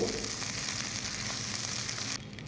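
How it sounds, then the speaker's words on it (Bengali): Ginger-garlic paste frying in a pan for a fish dish, a dense close sizzle with light stirring that drops abruptly in level near the end, no talk. "তারপরে আদা রসুন বাটাটাকেও একটু ভেজে নেব"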